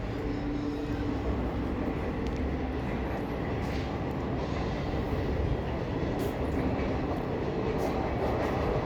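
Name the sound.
train passing near a homestay terrace in Prayagraj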